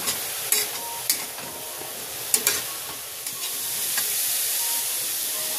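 Steady sizzling of shredded cabbage frying in a hot pan, with a few sharp scraping clicks of a spatula stirring now and then.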